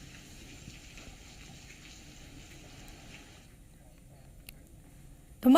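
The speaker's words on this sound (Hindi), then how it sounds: "रुक रुक कर बारिश हो रही थी" Rain falls in Madhya Pradesh as a steady broadband hiss that thins and quiets after a few seconds, ending with a brief louder burst.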